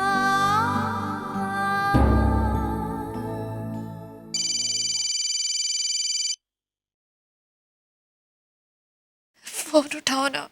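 A phone rings with a steady electronic tone for about two seconds, following a stretch of music, then falls silent before a brief voice speaks at the end.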